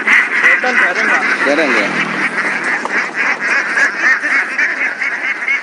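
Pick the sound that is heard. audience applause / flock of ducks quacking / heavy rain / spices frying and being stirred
flock of ducks quacking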